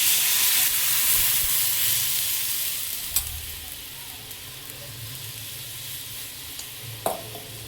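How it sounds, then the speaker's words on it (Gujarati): Buttermilk hits a hot spice tempering with hing and chilli for Kathiyawadi vagharali rotli. It bursts into a loud, broad sizzle that gradually settles to a softer steady hiss, with a couple of light utensil clicks later on. "પછી છાશ નાખવાની."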